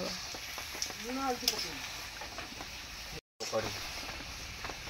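Chicken and onion frying in hot oil for a village-style desi chicken curry, a steady sizzle with stirring noises, briefly cut off near the end, while a person talks over it.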